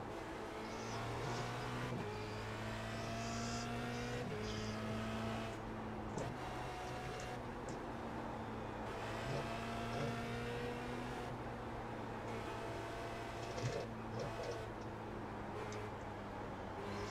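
Formula Renault 2.0 race car at Suzuka in iRacing, its engine droning steadily at high revs with repeated drops and climbs in pitch as it shifts gears, close and continuous throughout.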